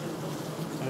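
Honeybees swarming over a brood frame in an open hive, a close, loud, continuous buzzing drone.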